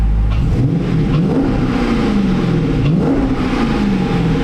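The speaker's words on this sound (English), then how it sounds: "How's my exhaust sound?" A car engine revs repeatedly through its exhaust, loud and close, with rising and falling throttle sweeps over a steady rumbling idle and no talking.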